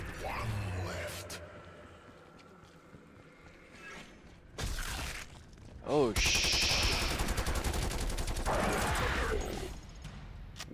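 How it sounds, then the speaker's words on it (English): Bursts of gunfire in the Call of Duty: Black Ops Cold War zombies outbreak mode, loud rapid volleys and crashes mixed with game noise, with people talking over parts of it. "What the hell are they shooting at over there?"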